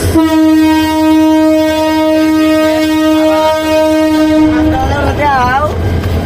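The Kishorganj Express passenger train arrives at a station, its loud horn blaring in one long, steady, close blast before breaking into wavering tones, over the rumble of the train.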